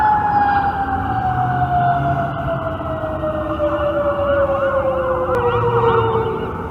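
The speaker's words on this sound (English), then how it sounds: "wait till the siren passes." An emergency vehicle siren wails past, loud and close, its steady tone gliding downward in pitch as it moves away, with rumbling traffic noise beneath and no speech.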